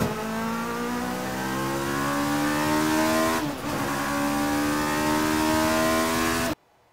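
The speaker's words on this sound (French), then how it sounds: "un moteur de superbike" BMW M1000 XR superbike engine climbing through the revs, a loud, smooth rising whine across several gear pulls that cuts off abruptly near the end.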